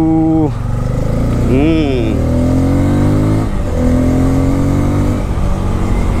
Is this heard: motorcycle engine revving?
yes